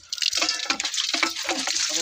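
Hands are washed under a running tap, giving quick irregular splashes and drips of water close by, brief and moderately loud with no speech.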